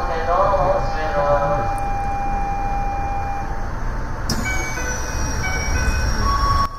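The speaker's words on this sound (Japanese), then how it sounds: "もう間もなく列車が発車するところでございます。" A train at Kamata Station on a Kanto private railway rumbles steadily with a low mechanical drone and a few thin tonal whines, then a sharp clank as it begins moving under a continuous roar.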